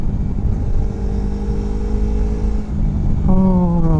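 A Kawasaki Versys X Tourer motorcycle engine revs up close by, a steady drone rising into a long, climbing rev near the end, with no talking.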